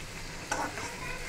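Chopped tomatoes sizzle in a pan of potato and pointed gourd curry as they are stirred, giving a brief scrape amid steady frying hiss.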